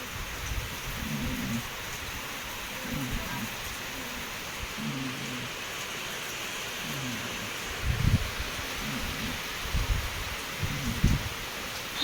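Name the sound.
heavy rain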